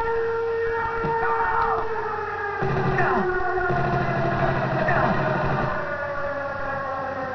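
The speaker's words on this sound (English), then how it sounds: "Brilliant air raid sirens." Air raid sirens wail in the Xbox game Armed and Dangerous, rising and falling tones over a steady engine-like drone, loud and continuous with battle ambience.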